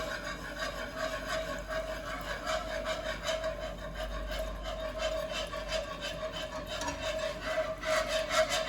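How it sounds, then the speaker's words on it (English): A whisk scrapes and swirls steadily in a pan as milk is slowly added to a vegetable casserole sauce, a soft rhythmic rasping heard up close with a faint steady hum behind it. "Whisking it in there."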